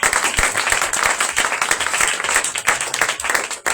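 A church congregation applauds and cheers in acclaim of Jesus Christ, with dense, steady clapping and crowd noise running loud and continuous throughout.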